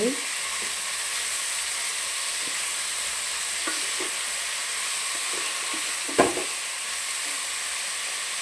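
Tuna fish curry sizzles steadily in a pan while a spoon stirs it gently, giving a few soft scrapes and one sharper knock against the steady hiss of frying.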